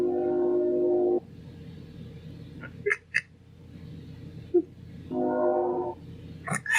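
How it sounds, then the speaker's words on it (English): A passing train sounds its horn in two long, loud blasts separated by a steady rumble of rolling cars, with brief clicks and squeaks of wheels on the rails in between. "everyone's got to shut up and let the train pass"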